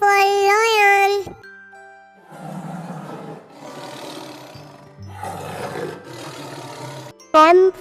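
A cartoonish lion roar opens loud and wavering, then music and chimes play with a short roar-like burst near the end; a children's alphabet song runs underneath.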